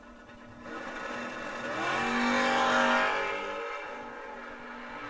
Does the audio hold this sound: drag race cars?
yes